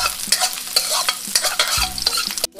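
Sautéing ginger stirred in a pan, with rapid close scraping and clinking strokes over a constant sizzle, ending in a short pause.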